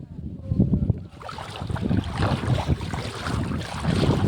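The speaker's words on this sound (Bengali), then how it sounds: "বাতাস বচ্ছে" Gusty wind roars loud and close across open water with choppy waves, buffeting the microphone in a steady rushing wash that swells again near the end.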